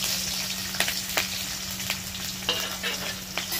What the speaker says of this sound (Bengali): এবার এটাকে ভেজে নেবে, পেঁয়াজটা দেখো খুব ভালো করে ভেজে নিয়েছি